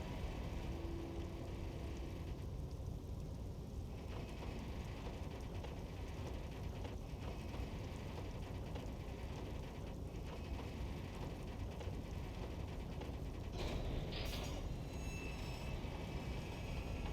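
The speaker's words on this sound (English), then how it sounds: "With a loud grind, the crane shifts overhead, moving a massive metal container through the air." A crane grinds steadily overhead in a harbor in Disco Elysium as it hauls a massive metal container through the air, a continuous loud mechanical rumble with a brighter scraping burst near the end.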